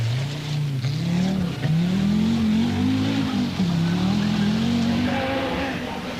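A 1984 Audi Quattro Sport rally car drives hard on a British rally stage, its engine note loud and close, rising and falling steadily with each gear and throttle change, with brief tyre scrabble between.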